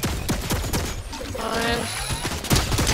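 A turret in Fortnite firing rapid, clattering volleys at mid distance, with busy game effects and a brief mechanical whir layered in the middle.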